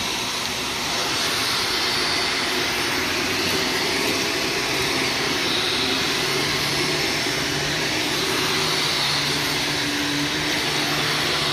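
Vacuum cleaner running steadily during carpet cleaning, a loud continuous broadband roar with a whining motor tone, close and unbroken throughout.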